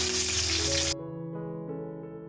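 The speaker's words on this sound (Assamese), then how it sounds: "আৰু দিছোঁ কাটি লোৱা আদা, শুকান জলকীয়া, কেঁচা জলকীয়া আৰু লৰাই লওঁ" Ginger with dried and green chillies hits hot oil in a pan with a loud hiss that cuts off abruptly, followed by a faint, steady sizzle.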